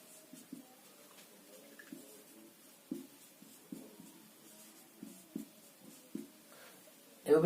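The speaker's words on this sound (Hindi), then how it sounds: "तो अभी लिखते हैं" A pen writing by hand during a maths lesson, heard as soft, regular scratching strokes and taps at close range, with quiet room tone between them.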